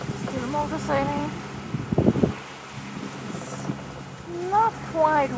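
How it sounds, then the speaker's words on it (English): A sailboat motor-sails on the Atlantic, its engine a steady low drone beneath wind noise while people talk over it. "Still motor sailing."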